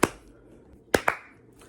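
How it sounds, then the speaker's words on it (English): Hand claps in a quiet room, one near clap followed by two more in quick succession, sharp and close with short decays. "let's clap."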